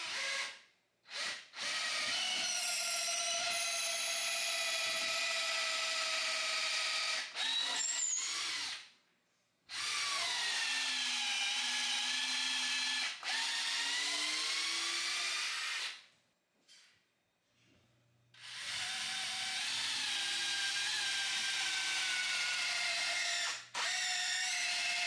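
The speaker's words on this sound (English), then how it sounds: "So we'll go ahead and start pre-drilling." A power drill pre-drilling into a floor, several long whirring bursts with rising and falling pitch separated by short pauses, loud and close, alone without talk.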